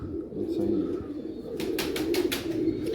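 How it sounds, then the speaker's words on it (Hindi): Pigeons cooing softly and steadily, with a netted (jaldar) pigeon among them, a low continuous murmur with a few brief rustles or flutters near the end. "एक जालदार कबूतर लाया हूँ अंदर से"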